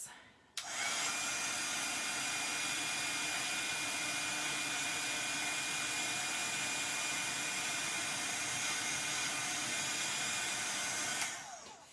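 A heat tool blows hot air over fluff on Ugg boots with a steady, close whooshing whir that switches on abruptly, runs unbroken for about eleven seconds, then cuts off.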